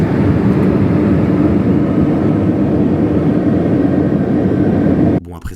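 Steady broadband roar of an airplane cabin in flight, a loud continuous rumble with no breaks, cutting off abruptly near the end.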